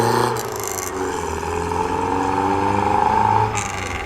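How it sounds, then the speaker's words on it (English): A classic MGA sports car drives past at a breakfast car meet, its engine a steady, healthy drone that swells slightly as it nears and then eases away, with faint crowd noise around. "Healthy sounding MGA."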